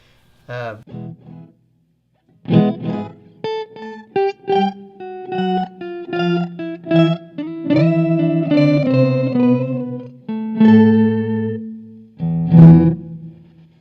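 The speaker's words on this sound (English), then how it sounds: "So we're putting an octave down and an octave up." An electric guitar runs through a fuzz pedal set to add an octave down and an octave up, giving a thick, buzzy tone; short bursts give way to a longer phrase, with brief talk between.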